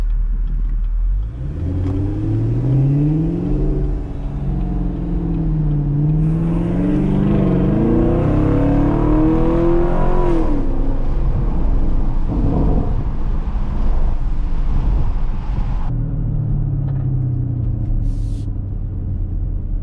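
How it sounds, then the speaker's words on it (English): A Chevrolet Camaro SS engine and exhaust rumble steadily throughout, with the note rising and falling as the car accelerates and shifts gears, heard from inside the cabin. "I'm gonna be silent for the rest of the trip here and see if we can just enjoy the sound of the exhaust."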